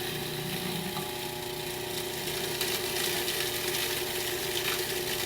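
A food processor blends a cauliflower steak marinade while olive oil streams in, giving a steady, continuous whirring motor drone with no pauses and no talk.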